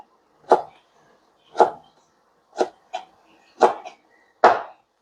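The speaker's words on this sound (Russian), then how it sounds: "Нарежем мелко." Knife chopping celery root finely on a board for solyanka: six sharp, separate chops at a slow, even pace, close and clear with quiet between.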